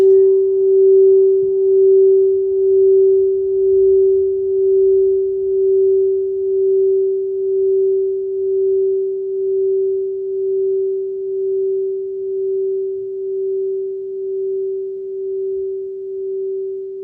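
Crystal singing bowls ring out in one steady, pure sustained tone that hums evenly and slowly softens over the whole stretch, with no voices.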